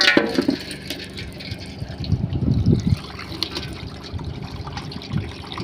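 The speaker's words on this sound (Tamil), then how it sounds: "தண்ணி வருது." Water trickles and splashes from a tap, a steady close liquid rush with a heavier gushing patch midway, with no talking.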